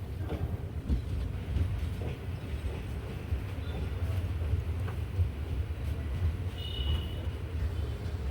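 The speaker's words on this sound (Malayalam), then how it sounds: "ഒരു WP7 അവിടെ അങ്ങോട്ട് പോയിക്കൊണ്ടിരിക്കുകയാണ്, റെഡ് ലൈറ്റൊക്കെ ഇട്ടുകൊണ്ട്" A WP7 locomotive showing a red light hauls a passenger train toward Thiruvananthapuram Central, giving a steady low rumble throughout with faint clatter and a brief higher tone near the end.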